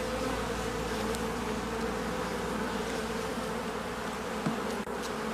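Honey bees drone in a dense, continuous buzz close by, swarming around hive frames with burr comb built between them; a couple of faint knocks break through near the end.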